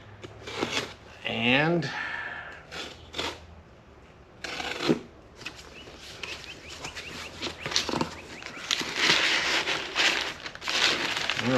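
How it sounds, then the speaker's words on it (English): A knife cuts and tears open a cardboard box of Range Rover Classic parts, giving scraping, crinkling and ripping noises in irregular bursts close by, with someone talking briefly. "Let's tease the box apart with a knife."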